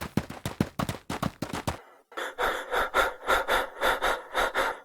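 Three cartoon friends panting after running from an explosion, rapid rhythmic breaths in short bursts, then a pause and a louder, denser run of heavy gasping breaths, close and loud.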